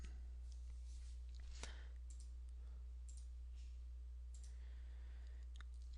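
A single sharp computer mouse click, fairly near and clear, sits over a low steady electrical hum, with a few fainter clicks scattered through the rest of the stretch.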